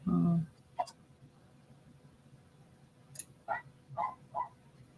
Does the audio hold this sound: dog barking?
yes